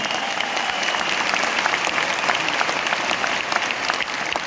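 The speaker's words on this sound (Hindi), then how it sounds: "तो सबसे पहले मैं एक बार जोरदार तालियां चाहता हूं उन लीडर्स के लिए" Loud, dense applause from a large audience honoring Vestige leaders, a continuous wash of clapping at steady volume with no voices over it.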